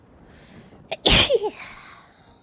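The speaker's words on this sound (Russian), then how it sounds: "Сейчас чихну." A single loud, close sneeze bursts out after a short intake of breath, followed by a brief sniffly vocal trail, with quiet before and after.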